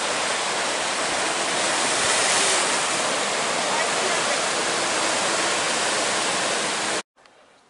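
Strong ocean waves breaking on a beach in Tenerife make a loud, steady roar of broadband surf that fills the scene, cutting off abruptly near the end.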